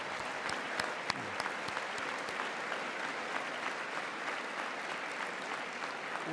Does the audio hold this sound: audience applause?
yes